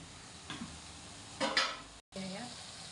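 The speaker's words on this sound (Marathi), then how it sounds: "तर पण हलवून घेऊ तर हे शिजवलेलं मटण" Cooked mutton is stirred in an oily pan, a low steady sizzle under a few scraping spoon strokes and a brief clatter, with a short cut in the middle.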